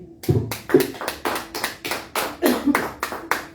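A church congregation claps together in a steady, rhythmic beat, about three claps per second, fairly close and even, with no talking over it.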